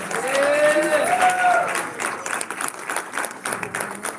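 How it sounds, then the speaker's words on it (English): Crowd at a live event in the Bronx applauding; loud clapping with cheers and shouts, a whistle-like tone early on, tapering as it goes. "Give another round of applause."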